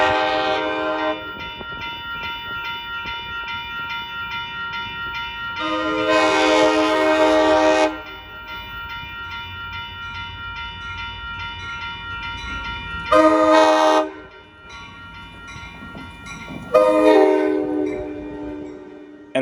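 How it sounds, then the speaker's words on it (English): An Amtrak Capitol Corridor passenger train eases gently into Sacramento Valley Station beneath the I Street Bridge. A steady rumble carries throughout, broken by several loud, sustained horn blasts, one long and two shorter, with no voices. "an Amtrak Capitol Corridor service crossing under the multi-purpose I Street Bridge which carries I Street over the Union Pacific Martinez sub"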